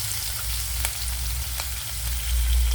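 Onions, green chilies and curry leaves frying in oil in a pan, a dense steady sizzle with occasional stirring taps and a low hum underneath.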